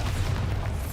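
A Bombarda blasting spell goes off in a video game, a loud, deep rumbling burst that fills the whole moment without any pause.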